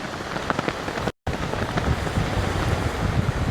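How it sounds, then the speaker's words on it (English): Strong wind on Cambois Beach in Northumberland during sea fishing, a steady, loud roar buffeting the microphone throughout, with a very brief dropout and no talking. "Oh, so windy. So windy. It's unbelievable."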